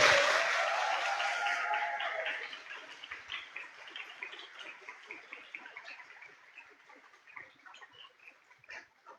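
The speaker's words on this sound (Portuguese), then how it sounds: "vamos aplaudir a Igreja Una, Santa, Católica, Apostólica, Romana, aplaudir a nossa fé" Congregation applause at a Catholic community preaching service, loud clapping at the start that thins out and fades into sparse, scattered claps trailing off over several seconds.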